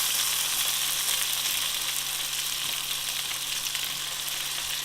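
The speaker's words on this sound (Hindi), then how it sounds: "इनको हम थोड़ा सा और फ्राई करेंगे" Stuffed brinjals (baingan) frying in a pan, a dense, even hiss of sizzling oil held steady and close throughout, with no stirring accents or voices.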